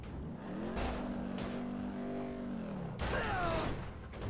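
A Hot Wheels car in GTA 5 races at extreme speed, its engine tone steady and droning, then rising into a fresh high-pitched roar near the end, loud and close with no talk.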